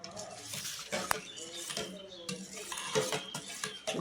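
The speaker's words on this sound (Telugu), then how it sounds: "ఇవి వేసుకొని ఒకసారి బాగా కలుపుకోవాలండి" A spoon stirs soaked sabja seeds into jaggery water in a vessel, giving soft, continuous clinks and swirling scrapes at close range with a faint voice underneath.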